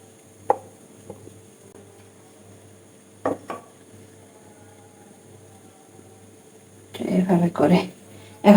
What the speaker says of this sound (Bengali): এখন এটাকে আমি ছোট ছোট করে কেটে নিব